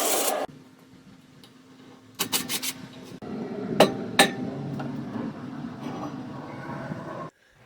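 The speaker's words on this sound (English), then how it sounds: "This is also a good time to remove the brake rotor." A brake rotor is worked off a BMW E46 rear hub during a suspension teardown, with sharp metallic knocks and clinks, scraping and rubbing, and a few louder hammer-like strikes close by in a garage.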